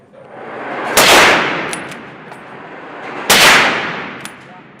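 Two loud rifle shots about two seconds apart at an outdoor shooting range, each cracking sharply and then fading in a long echoing tail, fired in quick succession from a .22 rifle.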